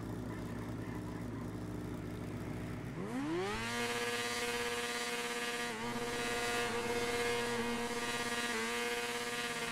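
A brand-new 2023 Honda CBR motorcycle engine revs up sharply during wheelies and holds a high, buzzing whine, with small dips in pitch as the throttle shifts.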